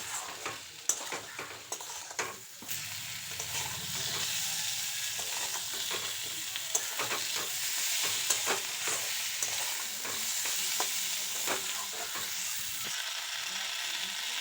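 Potatoes and eggplant sautéed with ground spice paste for a fish jhol hiss and sizzle steadily in a pan, with repeated scraping and stirring clicks from a utensil throughout, close and continuous.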